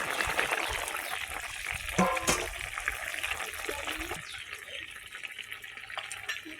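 Tap water running over hands at a kitchen sink, a steady close splashing that thins out partway through, with faint voices in the background.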